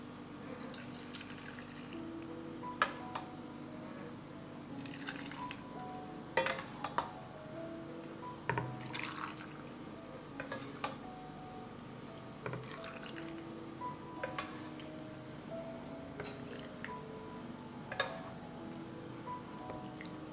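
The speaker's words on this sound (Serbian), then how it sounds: "I sada ćemo napuniti tegle." Boiled water is poured into canning jars in a home kitchen, a steady trickling and dripping of liquid with intermittent clinks and splashes, fairly close, with no talk.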